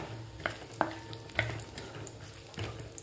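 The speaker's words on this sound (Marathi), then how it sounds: "त्याचे काप करून ते आपल्याला फ्राय करायचं आहे तुपात" Coconut slices frying in ghee in a pan for sabudana moong dal kheer, a quiet sizzle broken by a few distinct clicks and scrapes as a spoon stirs them.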